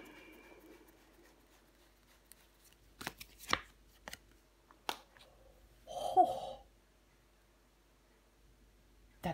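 Tarot cards handled and turned over during a reading, a few quiet rustles and flicks with one louder shuffle of card stock, close by in an otherwise quiet room without speech.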